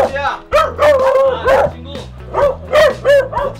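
A puppy at a beagle rescue shelter yips, whimpers and barks in short bursts, close by, while people talk excitedly around it throughout.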